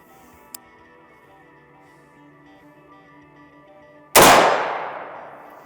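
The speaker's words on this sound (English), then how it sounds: "Fire one round, and come back down." A single rifle round fired on a range, one loud sharp crack that rings out and decays over about a second, preceded by a faint tick and near silence.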